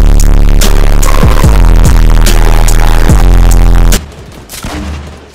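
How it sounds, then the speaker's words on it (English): Dense, very loud bursts of gunfire and booming shots in a Fortnite battle, overlapping rapid fire for about four seconds before dropping to a quieter rumble. "they're still shooting at us"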